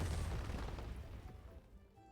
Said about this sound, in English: how many Ziggs booms are we about to take?